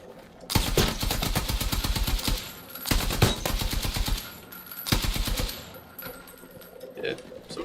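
Gunfire in Battlefield 6: long rapid automatic bursts, loud and close, broken by brief gaps, then a quieter tail with faint background sounds.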